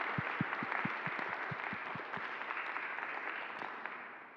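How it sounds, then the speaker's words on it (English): A church audience applauds guest speaker Pastor Jeremy Steele, with a steady wash of clapping throughout and some low thumps early on, fading slightly toward the end. "Let's give a round of applause again for Jeremy"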